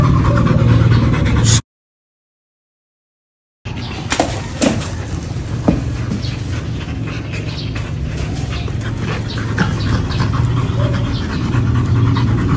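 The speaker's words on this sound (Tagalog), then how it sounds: "nagtitrain ng mga alaga nilang aso ni Andy" Dogs pant rapidly and heavily close by during training, a continuous rhythmic huffing broken by a short stretch of silence, with faint background rustling.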